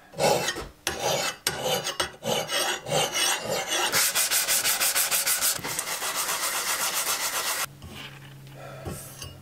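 Hand file rasping on metal, likely an axe head during a slip-fit axe hang, using a cheap hardware-store file, with close, rhythmic scraping strokes that quicken into a steady run before ending in quieter handling noises.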